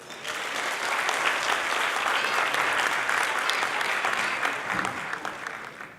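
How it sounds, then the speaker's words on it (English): Steady, dense applause from a gala dinner audience welcoming a keynote speaker, loud and sustained throughout with the many claps blending into a continuous wash, no talk over it. "Please join me in welcoming with a loud round of applause our keynote speaker, Nicole Tung."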